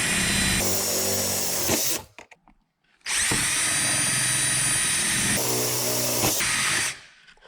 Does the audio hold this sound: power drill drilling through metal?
yes